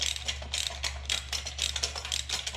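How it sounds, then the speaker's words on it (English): A ratchet clicks in quick, steady bursts as a bolt is tightened down on a motorcycle gas tank during installation, close and fairly clear over a low background hum. "Bolt this down on here."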